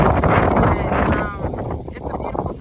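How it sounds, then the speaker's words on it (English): Strong wind gusts through an outdoor park, buffeting the microphone in a loud rushing roar that eases off toward the end. "it's windy as all outdoors. And it's like, who turned on the fan?"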